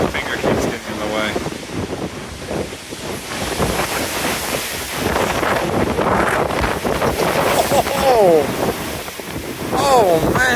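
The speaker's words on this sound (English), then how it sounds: "That's the ocean." Open ocean waves rush past a cruise ship beneath heavy wind buffeting the microphone, a steady loud roar with surging swells, while a person talks intermittently over it.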